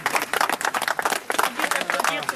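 An audience applauds at a gathering, dense rapid clapping that stays busy and fairly loud from start to finish, with speech-like sound in the mix.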